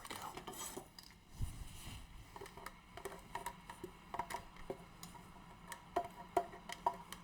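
A scraper clicks and scrapes against a container while chopped green pepper, onion and garlic for a vegan chili are cleared out, a faint run of light taps and knocks at an irregular rhythm.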